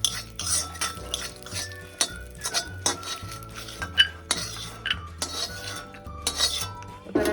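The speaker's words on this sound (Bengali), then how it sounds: "এবার আমি বাদামটাকে একটু হালকা তেলে নেড়ে নেব" Peanuts are stirred in a little oil in a pan, with a spatula scraping and clinking against the metal in an irregular rhythm. The oil gives only a faint sizzle, and no one speaks.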